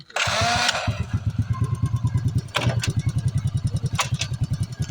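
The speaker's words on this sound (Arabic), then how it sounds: "وإلا ديمارينا الموتور فغنسمعوا واحد الصوت، غنديماريو باش نسمعوا الصوت" A car engine with a leaking, failing head gasket cranks and fires up, then settles into a loud, close, rhythmic idle with a pulsing beat. Brief bursts of noise break in over it and a voice speaks near the start.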